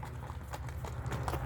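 A horse named Kurch Kara Kashka, from Kamal Ata village in Nookat district, clip-clops with steady, close hoofbeats repeating in an even rhythm, with no talk.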